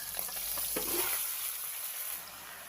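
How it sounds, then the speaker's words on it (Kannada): Chicken hisses and sizzles loudly in hot oil tempering, a close, crackling fry that gradually eases toward the end. "ಈ ಚಿಕನ್ನ ಈಗ ಒಗ್ಗರಣೆಗೆ ಹಾಕ್ಕೊಳ್ಳೋಣ"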